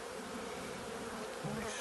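Honeybees buzz at an open hive on a Christmas tree farm, a dense, steady hum of many insects close by.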